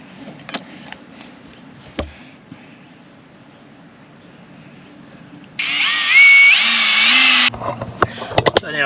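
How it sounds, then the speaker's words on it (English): After quiet handling and a few taps, a power drill whirs loudly for about two seconds, its pitch shifting as it bores a bolt hole for a truck mud flap, then stops. "And then drill it out."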